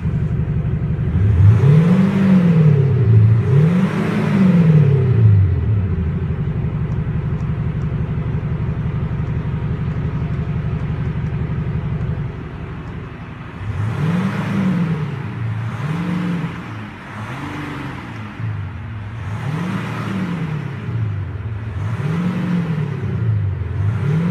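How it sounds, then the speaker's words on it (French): Jeep Grand Cherokee fitted with a Maxhaust Soundbooster gives an artificial engine note that revs in rising and falling sweeps, first in two bursts, then as a steady hum, then in a longer series of revs, with no talk. "Voici un exemple sur le Jeep Grand Cherokee avec le régulateur de vitesse, Cruise Control."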